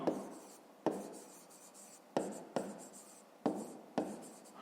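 Pen or pencil writing by hand on paper, a series of quiet scratchy strokes with six distinct onsets, close and soft, no talking.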